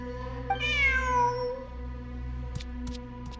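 A cat meows once in the video game Genshin Impact, a clear rising-then-falling cry over a steady low musical hum, followed later by a few faint clicks.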